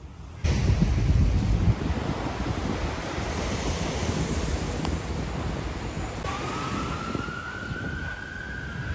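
Waves washing onto the shore at Dolomite Beach, a steady broadband surf wash with wind noise, loud at first and then settling, with a faint rising siren-like tone toward the end.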